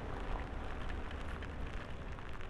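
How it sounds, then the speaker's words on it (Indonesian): Rain falls steadily during a motorcycle ride on the road from Lampung toward Jakarta, making a dense, continuous hiss with rumbling wind and road noise underneath and no pauses. "Walah, hujan lagi bro."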